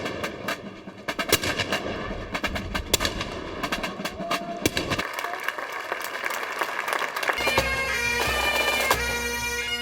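Sharp, loud bangs of gunfire crack in an irregular series, followed by heavier booming cannon blasts and a swelling roar, with crowd noise in the background, at a historical display at Fort Henry by Lake Ontario, Canada.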